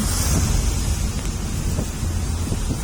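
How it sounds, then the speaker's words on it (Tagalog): Heavy rain pours in a steady, dense roar with a deep rumbling undertone in Paiti, Laguna, Philippines, continuous and loud throughout, with no voices. "Lakas ng buhos ang ulan."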